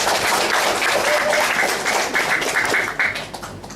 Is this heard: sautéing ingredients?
no